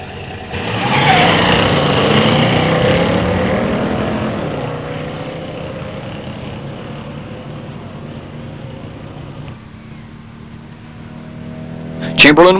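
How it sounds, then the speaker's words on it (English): A 1970 Mercury Cyclone Spoiler with a 429 Super Cobra Jet automatic and a 1970 Buick Grand Sport Stage 1 automatic launch at a drag strip, engines roaring loud then fading into the distance as they run down the track, with a brief burst near the end. "In the near lane, Pat Krieger, 70 Cyclone Spoiler, 429 SCJ automatic"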